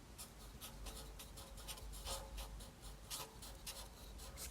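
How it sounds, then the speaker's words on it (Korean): Repeated scratchy writing strokes on a practice surface while testing semi-permanent makeup pigment colours, quiet and close, forming a fairly even rhythm of short rubbing bursts with no talk. "우선 길게 한번 써볼까요?"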